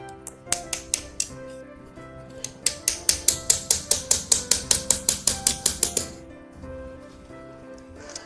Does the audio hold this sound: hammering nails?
yes